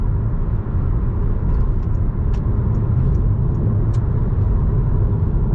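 Steady cabin noise in a 2013 Peugeot 5008 HDI 112 Allure on the move: a constant low rumble of wind and road, with a few faint ticks above it and no talking.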